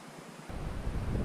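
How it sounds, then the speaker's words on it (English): Steady rushing wind howling through a forest on a windy hunting outing, rising partway through into a louder low roar, like gusts through distant trees. "we can hear the wind howling through the forest over there"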